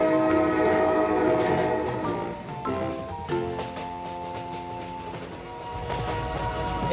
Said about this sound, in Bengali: ওই যে একটা ট্রেন আসছে